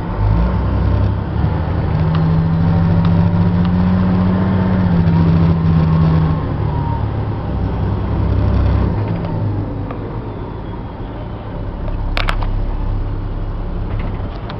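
2002 Chevy C8500 military truck with a Caterpillar 3126 diesel pulling into a driveway, a loud continuous low diesel rumble with a rising rev and mechanical clatter, no talk.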